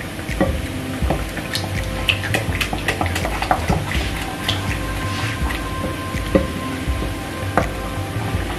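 Akara bean fritters fry in very hot oil on a cooker set to its highest heat, giving a steady broadband sizzle with scattered pops and crackles throughout, close and fairly loud, with no talking.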